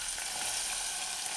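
Onions frying in half a cup of hot vegetable oil, a steady, close hissing sizzle over a short moment with no voices.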